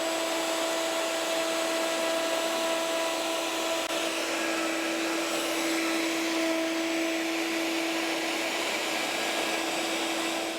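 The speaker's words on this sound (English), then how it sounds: "I'm actually using a 9mm router bit, not the 10mm one I've shown here" Router fitted with a 9mm bit cutting a sliding dovetail in wood, a loud continuous high whine with steady tonal hum, close and unbroken, with no talking.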